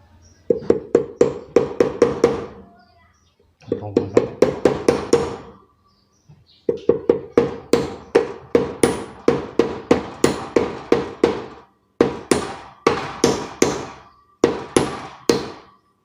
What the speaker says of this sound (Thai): ใช้ไม้ตอกเบาๆก็ลงแล้วครับ